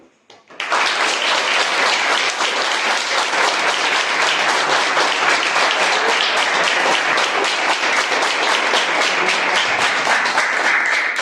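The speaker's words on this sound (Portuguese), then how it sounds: "queria também aproveitar o momento para pedir uma salva de palmas para o nosso formado" Loud, close applause breaks out suddenly at a capoeira event honoring a new graduate, with many hands clapping densely and steadily for about ten seconds without letting up.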